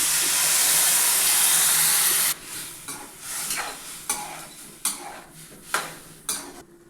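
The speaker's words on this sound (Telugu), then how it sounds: "ఇప్పుడు కలుపుకున్న వంకాయ ముక్కల్ని పోతాయి." Brinjal pieces cook in a pan. A loud steady sizzle comes first, then a spoon stirs and scrapes against the pan in repeated sharp strokes over a softer frying hiss.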